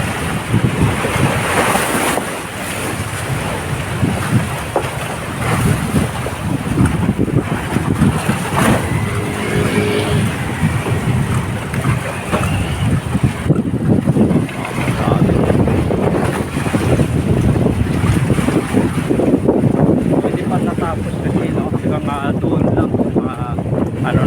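Water churns and slaps against a steel seawall at Baseco during Typhoon Crising, with heavy wind buffeting the microphone throughout and a person talking over the rushing noise.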